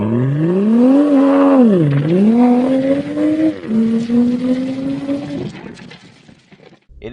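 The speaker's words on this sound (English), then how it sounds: "you get to hear a lot of turbo sounds from the engine itself" A 2024 BMW Z4 M40i's turbocharged engine revs hard nearby, its tone climbing, dipping and climbing again through gear changes before fading, with faint turbo whooshes near the end.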